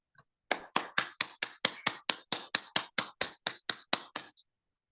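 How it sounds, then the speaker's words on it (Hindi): An audience claps for directors in slow unison, about sixteen sharp, evenly spaced claps in a steady rhythm that then stops. "मैं हमारे 5 डायरेक्टर महागुरु जी लोगों के लिए, महान हस्तियों के लिए एक जबरदस्त ताली चाहूंगा साथियों"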